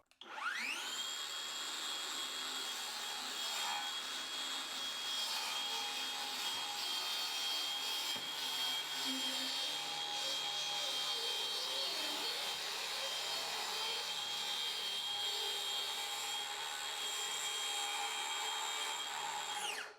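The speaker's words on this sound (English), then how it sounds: "I'm going to bed it in by cutting it all the way through for the first time" A Skil track saw rips through its guide rail strip in one continuous cut, a loud steady high motor whine with buzzing blade noise that holds for the whole stretch and then spins down at the end.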